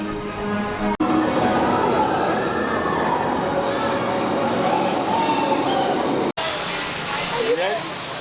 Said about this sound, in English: That's the tunnel that the train goes through.